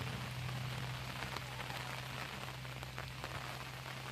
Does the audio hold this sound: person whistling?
no